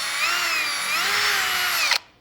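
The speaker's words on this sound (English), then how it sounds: "We're now ready to square up the hole and drill in the center or the second hole." A power drill whines steadily at close range while boring a hole for a turn signal kit on an Xpedition motorcycle, its pitch wavering slightly under load before cutting off sharply.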